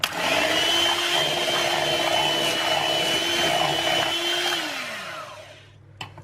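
Whisking in a third and final tablespoon with an electric mixer: a steady, close motor whine with a constant pitch that holds for about four seconds, then winds down and stops, followed by a brief click.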